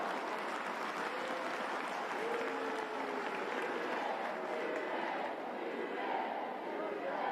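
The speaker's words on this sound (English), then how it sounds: "And the home crowd appreciate the effort." The home crowd at a Manchester United v West Ham United women's Super League football match gives steady applause that fills the stadium, a continuous distant clapping wash under the commentary.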